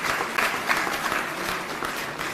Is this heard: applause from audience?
yes